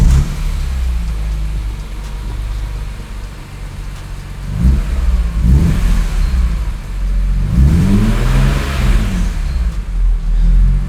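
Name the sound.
BMW E46 M3 engine starting and revving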